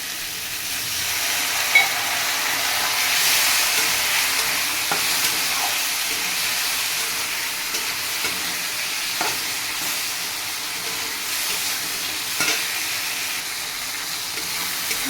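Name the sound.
frying and stirring spice paste with a little water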